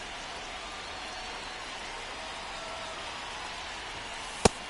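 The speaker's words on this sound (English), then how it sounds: "This rain is not letting up." Steady rain falls on the ballpark in MLB The Show 2025, a constant even hiss throughout with a single sharp click near the end.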